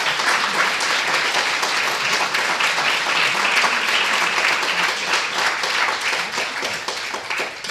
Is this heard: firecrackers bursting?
no